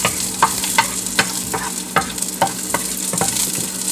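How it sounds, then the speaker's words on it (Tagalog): Onions and garlic sizzle loudly in hot oil as a spoon stirs them in a pan, with regular scraping strokes about every half second over the steady frying hiss. "Ikot-ikutin lang natin ang ating onions. Garlic."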